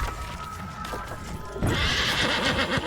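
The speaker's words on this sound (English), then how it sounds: "So we're basically just gonna ride the horse" A horse in the video game New World neighs loudly while being ridden, a long whinny with hoofbeat clip-clop continuing underneath, close and clear with no talk.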